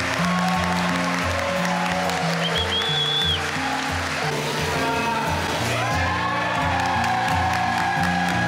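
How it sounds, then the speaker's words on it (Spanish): A wedding crowd claps for the newlyweds, a full wash of applause mixed under loud music with sustained sung or played tones running throughout. "Vamos a darle a los nuevos esposos un fuerte aplauso."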